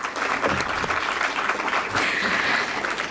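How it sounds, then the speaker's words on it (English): Audience applause for children after a junior German-language stage skit at a school cultural show, a sustained dense wash of clapping from a crowd, loud and steady for the whole stretch. "Please give all the kids a big round of applause."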